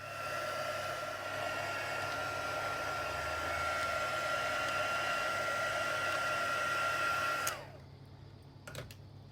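A heat tool blows continuously close by, drying ink on a Bible journaling page with a steady whirring roar for several seconds before switching off, followed by faint handling clicks.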